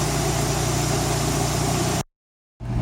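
A Nissan 240SX KA24E engine idles steadily with a low, even rumble, cuts out briefly into silence, then starts running again.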